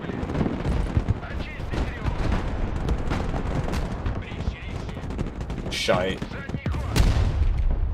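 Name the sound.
bombing and artillery fire in the video game Broken Arrow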